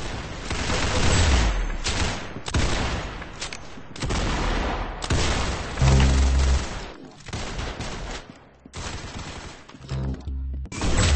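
Rapid bursts of gunfire from the online shooter game Arsenal, loud clustered shots and crashes separated by short pauses over about eleven seconds, with no speech.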